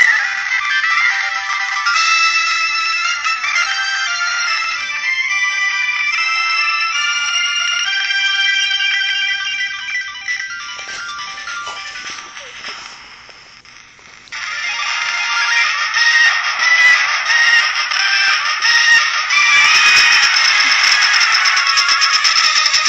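Video game music from a ROM playing on an iPod, glitching: a thin, tinny electronic chiptune melody that stutters and warbles, fades briefly near the middle, then returns as a denser, harsher buzzing loop, loud and alone.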